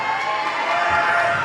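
A loud team of supporters cheers and shouts at a youth bouldering competition final in Kaunas, a steady crowd roar that holds throughout with no clear pauses.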